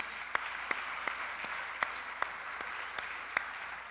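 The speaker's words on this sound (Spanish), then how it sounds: "Un aplauso para ustedes." Audience applause in a church service, a steady wash of clapping with a few sharper claps standing out, moderately loud and filling the whole clip with no talk over it.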